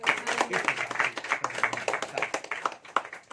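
A church congregation claps in rhythmic unison, a steady series of sharp hand claps at a brisk, even pace, with a voice faintly audible underneath.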